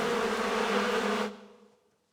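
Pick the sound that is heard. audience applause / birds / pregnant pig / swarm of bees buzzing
swarm of bees buzzing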